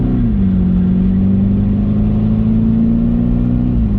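A Volkswagen Polo 6R GTI engine hums steadily at close range while accelerating, its pitch dipping briefly then holding and rising slightly, with a constant low rumble throughout.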